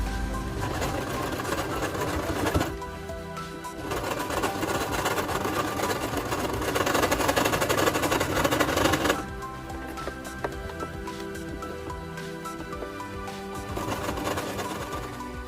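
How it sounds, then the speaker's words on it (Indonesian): Sewing machine stitching around a drawstring bag made from fabric scraps, a close, loud, continuous mechanical whir that runs in long bursts, then drops to a softer run partway through. "Jahit keliling bagian yang telah ditandai yang nantinya untuk rumah tali serut."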